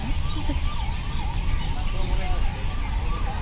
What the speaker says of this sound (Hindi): ऊपर से एम्बुलेंस का शोर, मेन रोड है, चलते ही रहेगा।